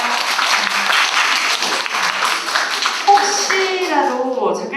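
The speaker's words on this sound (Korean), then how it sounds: "박수 부탁드리겠습니다." An audience at a book talk applauds warmly, steady clapping that tapers off as a voice starts speaking over the end.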